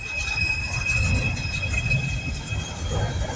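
A long coal train passes at Mount Hope, West Virginia, with a low rolling rumble of cars and a thin, steady high metallic whine from the wheels, heard at moderate distance.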